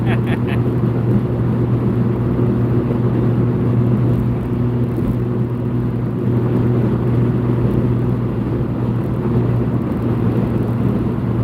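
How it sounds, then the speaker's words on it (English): Car driving down an airfield flight line between parked jets, a loud steady interior engine and road rumble with a low hum throughout, someone talking over it. "Driving down the flight line in between multi-million-dollar jets, driving with my knee"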